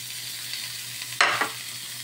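Sayote shoots sizzle in a hot, smoking pan, a steady frying hiss with a sudden louder burst of sizzling at about one second as the greens are stirred, then settling back.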